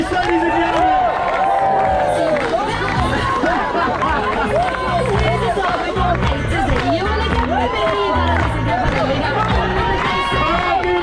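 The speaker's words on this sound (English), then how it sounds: "give him a round of applause" A crowd at a dance-off cheers and applauds loudly and steadily for Chris, with dense shouting and voices running through the whole stretch.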